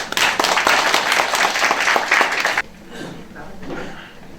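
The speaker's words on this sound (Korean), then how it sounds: "박수로 부탁드리겠습니다." An audience at a redevelopment residents' briefing in Suwon applauds loudly with dense, steady clapping for a few seconds, which then stops abruptly and leaves a quiet room.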